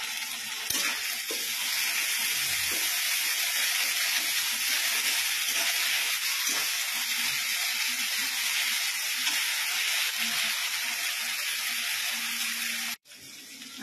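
Onions fry in hot oil with ginger garlic paste added, making a loud, continuous sizzling hiss that runs steadily throughout and cuts out briefly near the end.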